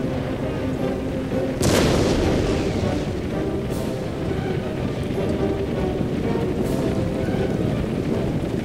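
Cannon fire in the Empire: Total War Persia campaign: a heavy boom opens the stretch, followed by a couple of fainter distant reports over a constant rumbling battle ambience.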